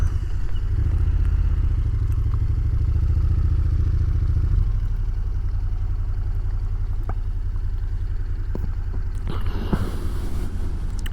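A Honda NC750XA motorcycle being maneuvered on a slope, with a loud low engine idle rumbling close by, fading somewhat midway, then clattering handling noises and wind buffeting near the end.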